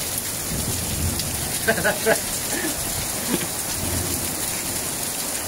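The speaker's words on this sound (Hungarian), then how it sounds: "Egy kicsit megerett az eső" Steady rain pours down during a storm while hikers shelter under cover on a trip near Nyíregyháza, a constant hiss of falling water with a few brief sharper knocks and faint voices in the background.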